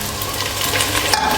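Thin potato slices frying in a hot pan for aloo methi palak sabzi, giving a steady, close, even sizzle with light stirring and no voices.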